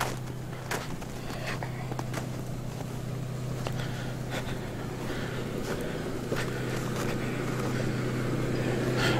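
A late-1940s Dodge car with a 3-speed gearbox idling in snow, a steady low engine burble droning throughout, with wind noise and faint crunching footsteps on top, no talk.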